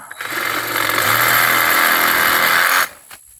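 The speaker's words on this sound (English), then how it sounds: "we're just sawing the weight off of this so it just doesn't peel" A power saw cuts through a paulownia tree branch during pruning, a loud, close, steady motor whine that holds for under three seconds and then cuts off abruptly.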